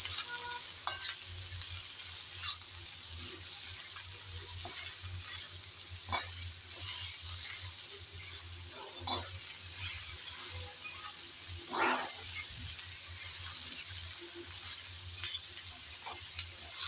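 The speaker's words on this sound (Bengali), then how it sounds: "আবারও লবণ আর হলুদ দিয়ে ভালোভাবে নেড়ে চেড়ে ভেজে নেব।" Chopped pointed gourd stir-fries with salt and turmeric in a pan, a soft, continuous sizzle with scattered clinks and scrapes of a spatula stirring, heard alone at close range.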